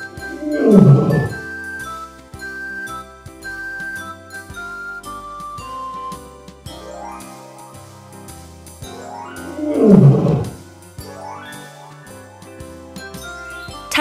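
A lion roars twice, each deep burst well apart, over a bright children's music track with tinkling chimes.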